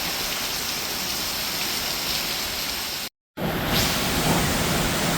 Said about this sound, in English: So yeah, the rain's back.